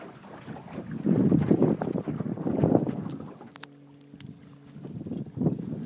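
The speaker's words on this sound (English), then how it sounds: "There's just a beautiful mellow breeze blowing" A gentle breeze buffets the microphone while sailing a small boat across Tomales Bay, steady wind rumble rising and falling with faint water and hull sounds, no talking.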